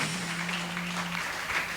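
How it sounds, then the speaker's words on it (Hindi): A church congregation at a Friday worship meeting claps briefly, a soft spread of applause with a faint tone underneath, fairly quiet and distant. "आइए ताली बजाएं जोरदार महिमा के राजा का"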